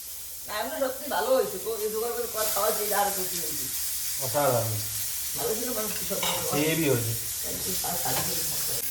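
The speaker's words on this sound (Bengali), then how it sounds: "এই দাও খিচুড়িটা ছিটকাচ্ছে" Khichuri spatters and sizzles in a pan on the stove, a continuous crackling hiss running beneath a woman's close, steady talking.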